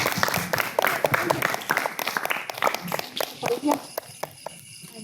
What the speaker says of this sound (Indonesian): Ayo tepuk tangan juga dong.